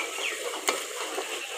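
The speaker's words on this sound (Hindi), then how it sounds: "इसे 2-3 मिनट के लिए भूनते हुए पकाएंगे। चम्मच को बराबर हिलाते रहना है ताकि नीचे से लग ना जाए।" Garam masala roasting in a pan with green chickpeas and potatoes, stirred with a spoon: a soft, steady sizzle with faint scraping and one sharp tap of the spoon on the pan, close and quiet.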